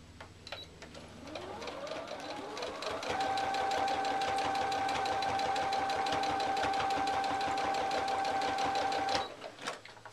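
A sewing machine stitches bias tape along the edge of a bath towel toilet roll holder. It runs in one steady, loud mechanical whirr that speeds up to a constant pace, holds for several seconds, then stops, with no voices.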